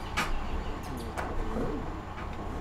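Pigeons or doves coo softly in short low notes amid steady background noise, with a few brief chirps and clicks, no voices.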